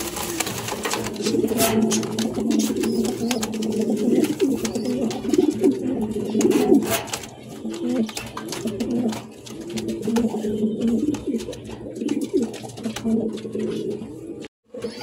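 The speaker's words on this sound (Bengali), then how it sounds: "দেখতে পাচ্ছেন কত বড় কবুতর" Large pigeons coo in a loft, several birds giving overlapping low, throaty rolling calls close by, continuous with short pauses.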